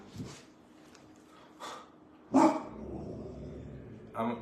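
A few sharp dog barks ring out in separate bursts with short quiet gaps between them, fairly close.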